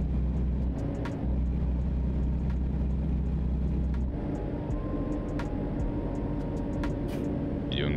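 Steady engine drone of a truck driving in American Truck Simulator, a low continuous hum that shifts in tone partway through, with faint clicks and light background sounds.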